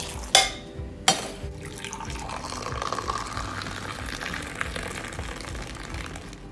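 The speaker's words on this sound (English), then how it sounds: "strain the tea into a vessel with a strainer" Kadak chai with cardamom and ginger is strained into a vessel, opening with two sharp clinks of the pan and strainer, then a steady pour of liquid trickling and splashing.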